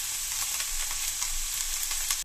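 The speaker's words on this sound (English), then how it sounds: "I then got some similar crackling sounds just from frying some stuff in a pan" Food fries in a pan with a steady, dense crackle and sizzle, close and continuous, popping all the way through before cutting off abruptly.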